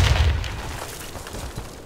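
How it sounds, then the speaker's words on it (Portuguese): Grenade explosion in a video game: a single heavy, close boom at the start that fades into a low rumbling tail, with faint scattered game noise afterward. "Lançando granada."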